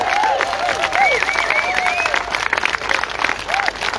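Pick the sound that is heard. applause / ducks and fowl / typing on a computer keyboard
applause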